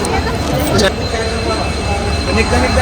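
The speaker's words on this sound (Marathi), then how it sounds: "आता पलीकडे लागली आपली कर्नाटकची ट्रेन" A train at a railway station near Miraj makes a loud continuous rumble with a high metallic whine and hiss, with a busy platform around it and voices over it.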